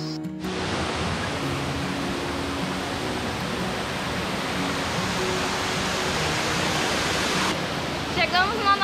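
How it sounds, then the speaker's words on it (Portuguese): A small river runs alongside a forest trail at Ecoparque Sperry in Canela, giving off a steady, full rushing wash of water that stays close and constant throughout, with a faint chirping sound near the end. "o riozinho passa aqui do lado, ó, e vem acompanhando a gente a trilha toda"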